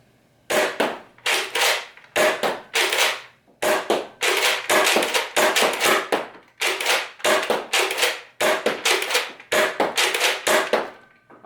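Darts fired from a Nerf blaster fed by a 15-dart Banana Mag, a long run of loud, close pops in quick, slightly irregular groups, each shot with a sharp burst and short whir, and no voices.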